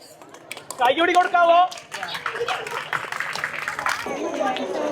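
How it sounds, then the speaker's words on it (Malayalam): Loud burst of audience clapping greets children after a Christmas dance performance, a dense patter of many hands that rises sharply, then gives way to chatter and a voice speaking over the crowd. "നല്ലൊരു കയ്യടി കൊടുക്കാവോ?"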